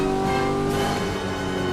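A car traffic sound effect plays on a livestream, a loud, steady engine roar with revving, like a car accelerating past, continuous throughout.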